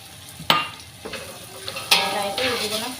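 Ginger garlic paste frying in a pan, a steady sizzle under sharp clinks and scrapes of a spoon stirring against the metal, close and fairly loud, with no voice.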